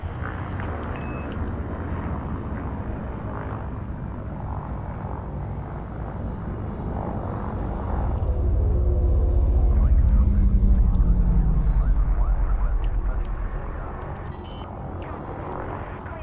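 A spaceship docks at a station in the game Elite: Dangerous: a loud, steady engine rumble with a low roar that swells midway and then eases as the ship settles onto a landing pad.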